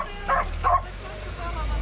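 A dog gives two quick barks at moderate distance over a low outdoor rumble, with a pause after them.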